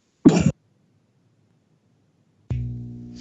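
One short, sharp cough close by during a radio show, then a quiet pause before a brief tonal sound.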